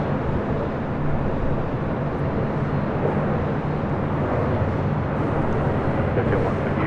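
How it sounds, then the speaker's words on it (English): An Emirates Airbus A380 taxis across runway 25 left at LAX, its engines a steady, distant broadband roar that holds evenly throughout with no break. "the Emirates A380 now crossing over 25 left to make that right-hand turn"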